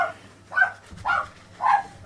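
Dog sitting on a windowsill gives three separate woofs spaced about half a second apart, fairly close and clear in an otherwise quiet room.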